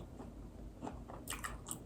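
Bites into crunchy toasted bread topped with oysters, garlic and olive oil, a few soft crisp crunches close to the mouth against a steady background hiss.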